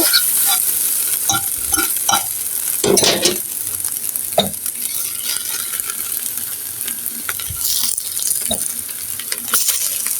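Stale-roti and egg snack frying in a pan, a continuous close sizzle broken by scraping and tapping of a utensil against the pan at irregular intervals.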